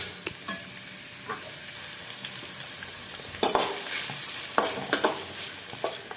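Onion and tomato pieces fry for a bitter gourd curry, a soft steady sizzle in a pan broken by sharp scrapes and taps as a spoon stirs them, with no talk.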